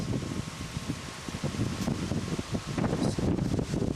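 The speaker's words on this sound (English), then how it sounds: "it's a strong gust of wind" Strong gust of wind rushing across a mountain overlook at Blowing Rock, North Carolina, a broad continuous roar with buffeting microphone rumble and swelling surges, no voices.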